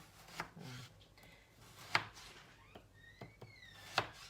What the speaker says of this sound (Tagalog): hiwain na natin itong ano po, yung eggplant po